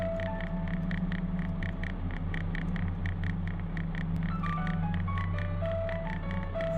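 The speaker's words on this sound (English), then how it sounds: "Yo, that ringtone tough" A melodic ringtone plays a stepping electronic tune inside a truck cab on a highway, steady and fairly loud over a constant low engine rumble and hum.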